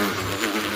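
A bee's buzzing plays from a mobile app, a steady dense drone lasting under a second at moderate level with no pauses.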